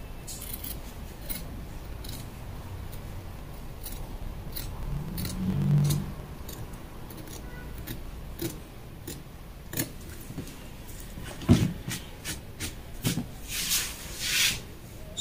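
Scissors trimming the rough edge of a fabric seam during sewing of palazzo trousers, a string of close, crisp snips and blade clicks at an uneven pace with fabric rustle between them and no talk.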